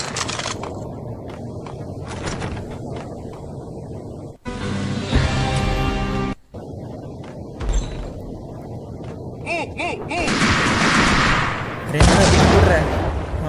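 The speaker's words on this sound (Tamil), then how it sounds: "பம்ப் ஆக்ஷன் ஷாட் கன் கிடச்சிருக்கு" Pump-action shotgun blasts in Max Payne, a few heavy booming shots scattered among game noise and gunfire, fairly loud against a busy action backdrop.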